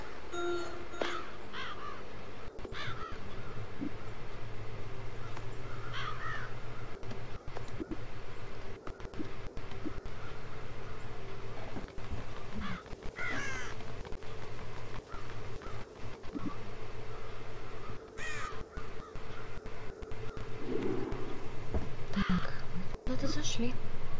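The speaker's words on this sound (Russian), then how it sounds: "Типичные вороны." Crows caw in the video game Child of Light, several scattered calls over steady ambient game music and wind, while people talk throughout.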